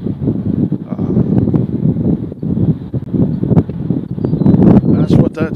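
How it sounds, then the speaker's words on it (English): Wind gusts across the microphone at Nashville International Airport, a loud continuous rumble and buffeting that lasts throughout, with faint voices in the background. "The wind is blowing."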